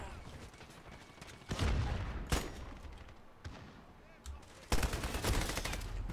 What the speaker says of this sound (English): look at him sitting back there with a little marksman rifle and shooting everybody in sight